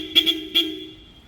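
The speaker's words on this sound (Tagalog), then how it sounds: "nilagyan natin siya ng supersonic horn. Yan yung malakas sa aming busina." A supersonic horn fitted to a Toyota Fortuner gives three short, loud, high-pitched toots: two quick blasts, then a third after a brief pause, over a steady hum.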